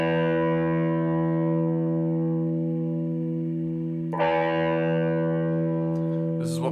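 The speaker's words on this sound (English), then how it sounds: "This is what my full distorted sounds like." Electric guitar on full distortion, a thick sustained low chord ringing loud and steady, then a fresh fuzzy strum hits near the end; no talk over it.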